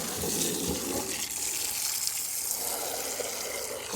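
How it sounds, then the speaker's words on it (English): High-pressure water gushes out while cleaning a bin, a loud, continuous hissing spray with a rushing splash underneath, close and steady throughout without speech. "Because there's a ton of water coming out"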